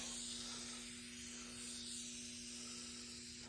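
Spray paint hissing steadily from an aerosol can in light coats onto 16 x 8 inch Torque Thrust wheels for a 1965 Mustang, one continuous close hiss with a faint hum behind it.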